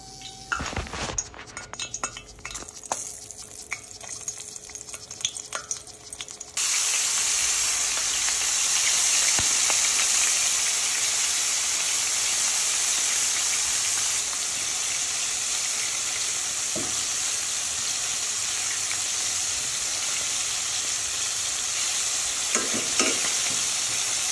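Clinking and scraping at first, then a loud, steady hiss of soft shell steamer clams sizzling in hot oil in a frying pan, continuous and close.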